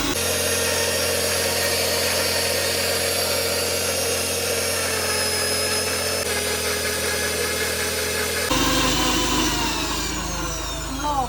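A mixer grinder whirs steadily as it grinds fresh mint, tulsi leaves, chopped ginger and cold water, a loud continuous motor drone that shifts pitch and roughens near the end as the contents churn.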